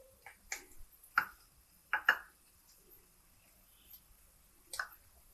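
Mustard seeds spluttering in hot oil, heard as a handful of sharp, scattered pops and crackles over a quiet background, with one cluster of quick bursts in the middle and a last pop near the end.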